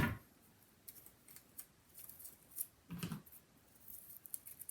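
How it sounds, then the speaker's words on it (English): Scissors cut through tape during craft construction of an album base, giving a few sharp close snips and crisp clicks spread across a quiet stretch with no talking. "Occasionally I have to clean off the scissors."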